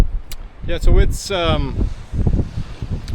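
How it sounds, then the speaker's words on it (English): Wind gusting across a coastal point by Manawaganish Island, rumbling into the microphone beneath close talk. "windy out here on the point"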